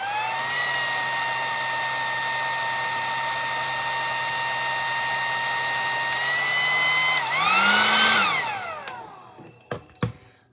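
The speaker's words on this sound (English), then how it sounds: "turn on your hairdryer for 20 seconds" Handheld hairdryer blowing steadily to dry magnetic lash liner, a close, even whine for about seven seconds that wavers as it shifts, then switches off, followed by a few faint clicks and handling knocks.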